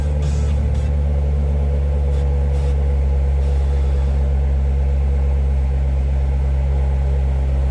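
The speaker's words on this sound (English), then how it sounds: "And that is that variable exhaust." A 2018 Chevrolet Corvette Grand Sport convertible idles close by with a steady, loud exhaust drone; its variable exhaust shifts tone a few seconds in, with no talking over it.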